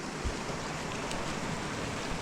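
Water runs through a flooded, swampy pathway along Kershope Burn, making a steady, close, broadband rushing wash that carries on without a break and with no voices.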